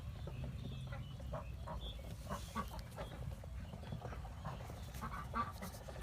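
Ducks on a small duck farm quack and honk faintly in scattered calls over a low, steady background rumble, with no one talking.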